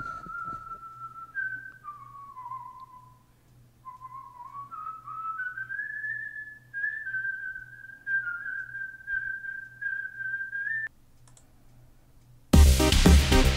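A whistled melody from the video game Party Hard runs clear and alone for about eleven seconds, wavering between sustained notes over a faint low hum, with light clicking and a sudden loud burst of noise at the end.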